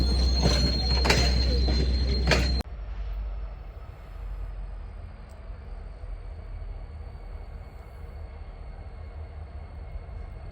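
An Arkansas & Missouri Railroad freight train hauled by ALCO locomotives rumbles past, loud and close for the first couple of seconds, then a steady lower rolling drone of cars and wheels continues with a faint high squeal.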